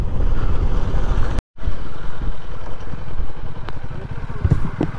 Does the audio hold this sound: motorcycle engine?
yes